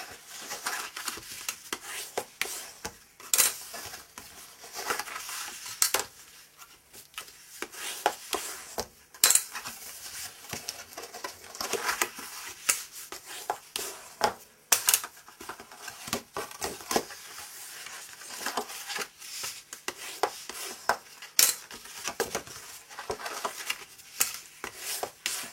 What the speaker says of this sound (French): nous venons marquer les plis.